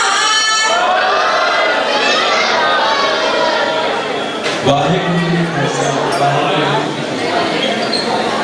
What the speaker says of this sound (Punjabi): ਸੋ ਇੱਕ ਜੈਕਾਰਾ ਜ਼ਰੂਰ ਨਿਤਿਨ ਜੀ ਵਾਸਤੇ ਬੋਲੇ ਸੋਹਣਿਆ